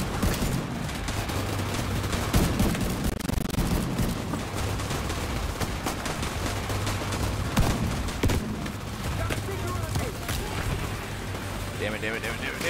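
Turret and minigun fire in The Division video game, with dense, continuous rattling bursts and booming shots that stay loud and close throughout, mixed with occasional voices.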